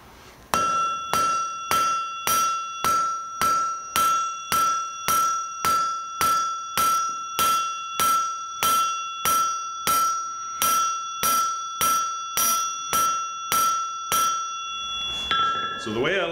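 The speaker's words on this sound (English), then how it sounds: "first I flatten it out, then I go to the edge of the anvil and hit this side of the blade" Steady hammer blows ring out on an anvil while a knife blade is forged from bar stock, about twenty evenly spaced metallic strikes with a bright bell-like ring, close and loud, ending with a brief shuffle.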